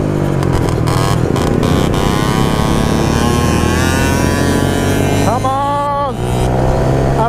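Moped engines scream and rev hard during a race on a motocross dirt track, several high buzzing engines overlapping loudly and continuously, with rising and falling pitch sweeps as riders accelerate past.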